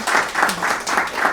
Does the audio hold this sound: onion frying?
no